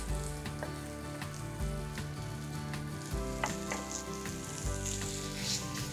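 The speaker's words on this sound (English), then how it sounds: "I'm gonna add 8 garlic cloves here now that I minced." Minced garlic cloves frying in a pan, a steady close sizzle and crackle with occasional pops and stirring scrapes, no voices.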